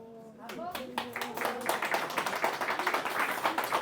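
An audience at a New Year's greetings address in Melun starts clapping, first a few scattered claps that quickly build into fuller, fairly close applause, with a voice speaking at the start.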